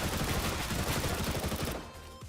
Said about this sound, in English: the MP7 becomes one of, if not the easiest SMG to spray and control